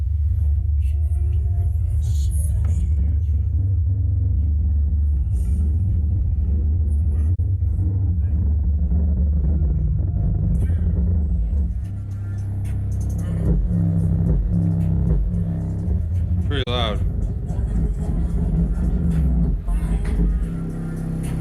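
Loud bass-heavy music pumped through a car amplifier wired up indoors in a house, a deep booming low end dominating throughout with a muffled, rumbling texture, with brief voices and shouts faintly over it.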